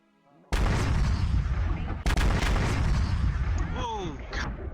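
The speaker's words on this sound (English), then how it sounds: "This is like the only gun of a sorts that I can fire without probably hurting myself." A gun fires in a video game, giving a sudden loud blast that roars on. A second heavy boom follows about two seconds later. Rising and falling whistling tones come near the end.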